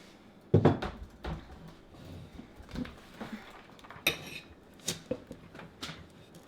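Italian cream cake ingredients being mixed in a bowl, giving irregular clanks and knocks of a utensil against the dish, with one loud bang near the start and scattered sharper clinks, heard up close without speech.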